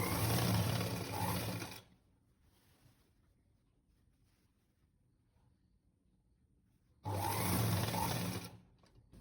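A sewing machine stitches a pleated three-piece nighty in two bursts, a close, loud rattling run of about two seconds, a quiet pause, then a second similar run.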